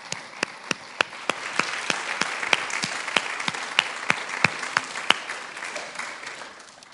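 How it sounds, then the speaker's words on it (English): Audience applause at a junior school prize giving, a steady bed of many hands clapping with one sharp, close clapper cutting through in a regular beat throughout, easing down toward the end. "we can give you a round of applause for all your hard work"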